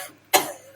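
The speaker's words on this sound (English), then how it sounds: "I'm coughing like this" A single sharp cough from fumes of charring roasted chillies bursts out close by, brief and harsh, trailing off quickly into quiet.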